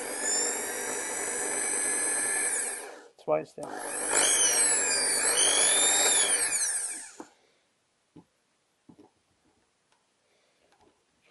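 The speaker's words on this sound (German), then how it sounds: "ich habe da jetzt einfach reingebohrt" A small high-pitched 2 mm drill bit whines steadily drilling into a jammed lock cylinder for several seconds, briefly stops, then runs again before cutting off, followed by a few faint clicks and quiet words.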